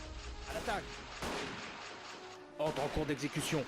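Mortar fire in the World War I game Battle of Empires 1914-1918, heavy booming thumps with sharp gunshot cracks and rumbling battle noise, while voices speak over the combat.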